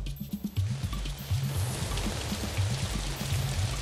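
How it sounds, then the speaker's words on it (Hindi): Heavy rain pours steadily in Kolkata, a dense, continuous hiss of downpour with a low rumbling undertone that holds evenly throughout. "बंगाल में भारी बारिश शुरू हो गई है। इस समय काफी ज्यादा बारिश है।"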